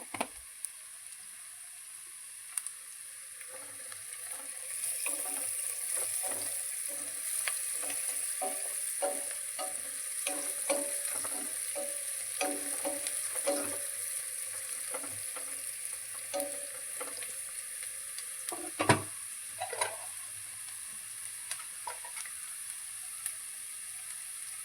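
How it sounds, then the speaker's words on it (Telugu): Onions frying with turmeric in a pan give a soft, continuous sizzle with scattered light stirring scrapes and a louder clatter near the end, close but quiet, with no voices. "మనకి ఉల్లిపాయలు వేగినాయండి"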